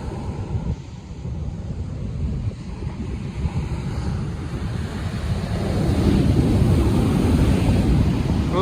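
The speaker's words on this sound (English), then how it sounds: "It's currently high tide and the water's rolling." High-tide surf rolling onto the beach at Ballito, KwaZulu-Natal, a continuous loud wash of breaking waves with heavy wind buffeting the microphone and the roar swelling toward the end.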